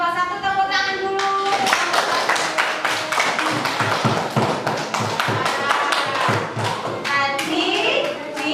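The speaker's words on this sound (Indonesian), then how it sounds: "Terima kasih untuk kelompok satu. Tepuk tangan dulu." Schoolchildren in a classroom clap for a group that has just presented, a fast, uneven patter of many hands close by, with a few young voices heard at the start and end.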